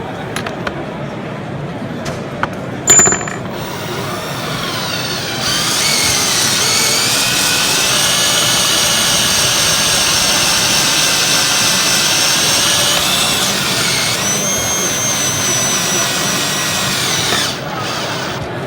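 A power drill whines steadily for several seconds, loud and close, drilling into a live cold mains water pipe after a few brief clicks and knocks, then cuts off abruptly.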